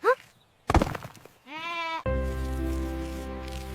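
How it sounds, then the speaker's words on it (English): A baby goat bleats in a farm setting, several wavering, nasal cries close by, the last one long and sustained, with a voice-like quality and a short loud knock before the middle calls. "This is a lovely baby goat."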